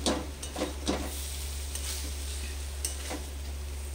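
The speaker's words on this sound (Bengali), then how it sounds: "এরকম করে একটু নাড়তে হবে ঢাকনা খুলে।" Spices for a fish-head, potato and eggplant curry are stirred in a wok with the lid off, a few scraping strokes over a low steady hum and faint sizzle.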